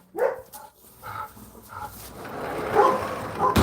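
A dog barks and whimpers indoors, giving a few sharp barks early on, then whiny yelps and whimpers over a steady noisy background that grows louder toward the end.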